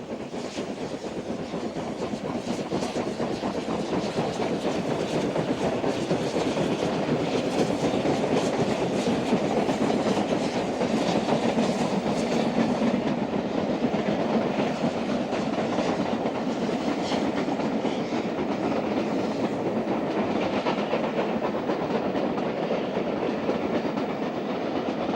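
Steam locomotive Sir Lamiel hauling an excursion train on former Southern lines, a steady loud rumble of wheels and carriages with rhythmic clatter that holds level throughout, with no voices.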